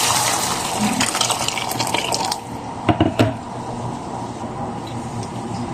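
Hot water pours into a pot while chicken vermicelli white soup is being made, a loud continuous splashing stream that eases off partway through, followed by a few clunks.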